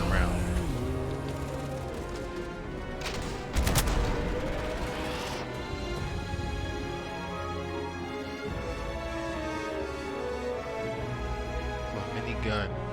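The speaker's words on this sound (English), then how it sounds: "A mini gun." Minigun fire in the space game Starfield, a dense continuous stream of rapid shots running under the game's ambience with a heavier burst partway through, while voices talk over it.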